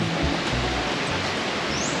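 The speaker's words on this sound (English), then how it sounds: "There's many levels of the waterfall, but this is the lower level." Inlad Waterfall on Koh Samui, lower level, running strong after heavy rain, a loud close continuous roar of rushing water filling the whole clip.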